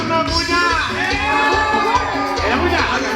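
A wedding crowd in Ameyaltepec shouts, whoops and cheers in a steady loud roar, with a voice calling out over the noise and music underneath.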